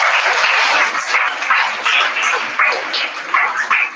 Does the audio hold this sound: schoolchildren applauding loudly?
yes